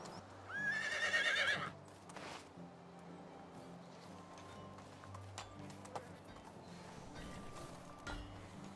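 A horse in a video game stable whinnies loudly near the start, followed by quiet hoof shuffles and soft clinks in a calm, enclosed space.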